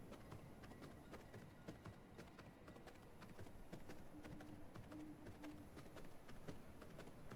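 Horse hooves clip-clop faintly and steadily in a video game, a quiet run of light, evenly spaced hoofbeats.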